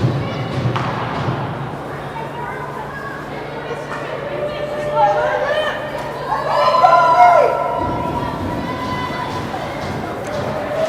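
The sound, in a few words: hockey fans cheering for a goal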